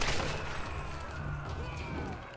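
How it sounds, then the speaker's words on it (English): A game explosion in Tomb Raider Definitive Edition, a loud, dense rumbling roar that fills the clip continuously and fades slightly toward the end, with no talk. "Oh, look at that explosion!"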